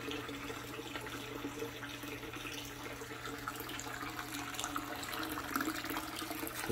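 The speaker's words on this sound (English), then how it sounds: "all the water rises up, going through all the filtration" Water from a DIY indoor turtle pond filter flows and splashes in a steady, moderately quiet wash that stays even throughout, with no voices.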